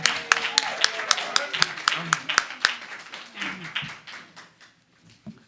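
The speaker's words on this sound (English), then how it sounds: "let's have a round of applause for the champ from Brooklyn, New York" Applause from a crowd in a boxing hall after a fight, cheering Brooklyn's champion: a loud burst of sharp claps, dense at first and thinning out over several seconds, with a voice talking over it.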